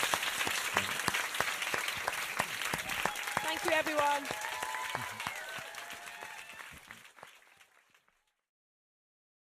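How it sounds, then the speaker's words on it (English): Large audience applause at an interview event with Colin Firth and Tom Hooper, dense and sustained clapping with a voice speaking over it, then fading out to silence. "Huge round of applause, please."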